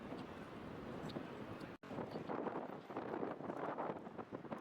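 Steady late-March wind in Lyon, France, roars and buffets the microphone beside an outdoor swimming pool, a constant rough rushing with one brief dropout, no voices.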